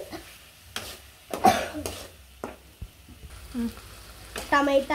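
Tomato chutney frying and being stirred in a pan, with crackling sizzle and intermittent scraping stir strokes, close up and alone; a brief cough interrupts partway through.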